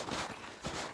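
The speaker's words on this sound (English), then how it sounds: "You can hear me sinking in the snow." Footsteps crunching and sinking into deep winter snow on a trapping trail, two heavy muffled steps about half a second apart, close to the microphone with no talk.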